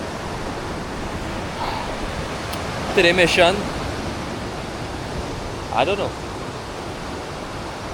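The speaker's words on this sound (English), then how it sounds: "Still this sea is not permitting me to dive. The water is rough." Rough sea waves on a beach produce a constant, loud broadband roar, with someone speaking briefly twice over it.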